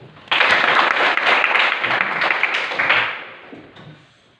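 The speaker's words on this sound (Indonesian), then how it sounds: "Beri tepuk tangan" A class of schoolchildren breaks into sudden applause that holds strong for a few seconds, then gradually thins and fades out.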